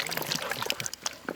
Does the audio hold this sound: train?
no